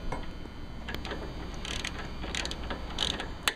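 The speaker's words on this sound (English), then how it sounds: "continue to remove these two bolts that hold the foot peg on" A ratchet wrench loosening bolts on a motorcycle foot peg, rapid quiet clicking in short bursts, close up with no talking.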